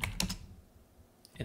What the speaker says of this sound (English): Finally, type in your root password